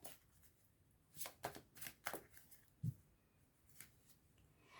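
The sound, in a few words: cutting a deck of tarot cards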